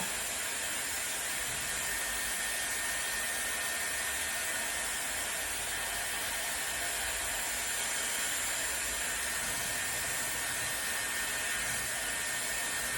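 Dyson Airwrap hair styler blowing air in a steady, continuous broadband whoosh with a constant high hiss, close and even throughout with no talking.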